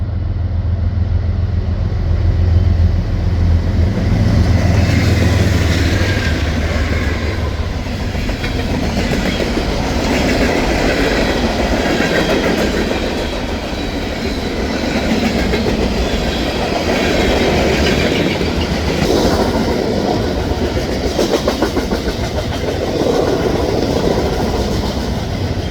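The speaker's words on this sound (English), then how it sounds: "Two diesels from General Electric pull the train through Yardley" A CSX freight train hauled by two General Electric diesel locomotives rolls through Yardley, loud and close, with a steady rumble and a continuous clickety-clack of wagons over the rails lasting throughout.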